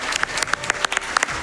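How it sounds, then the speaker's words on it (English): An audience at a Summer Games Done Quick 2024 speedrun event claps, a small, close burst of distinct, scattered handclaps in an uneven rhythm, loud and alone. "Let's get some claps for Cixah for sticking through this."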